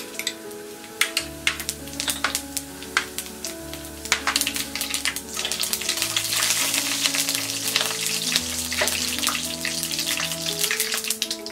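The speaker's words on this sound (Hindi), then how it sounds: "घी गरम हो गया है। अब हम इसमें डालेंगे ये ड्राई रेड चिलीज, राई, जीरा" Dry red chillies, mustard seeds and cumin crackle and sizzle in hot ghee, a steady close frying hiss with sharp popping spatters throughout, alongside a low musical background.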